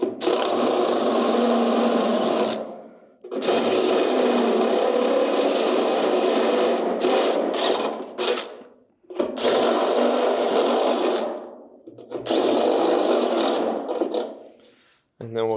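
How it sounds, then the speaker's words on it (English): A power drill bores into the metal hood hinge of a 1965 C10 pickup in a garage, running in several loud sustained bursts of a few seconds each, separated by short pauses and brief stutters. "I guess it would help to turn it to drill mode."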